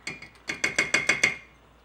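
A stove knob is turned to medium heat, giving a close run of about seven quick, even clicks from the igniter mechanism over roughly a second, then quiet.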